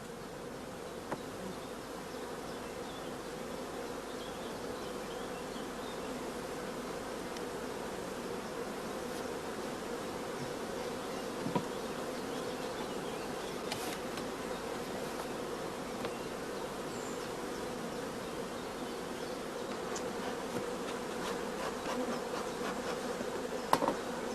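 Honey bees buzzing around a beehive comb, a dense steady hum lasting throughout at moderate level, close by with no talk.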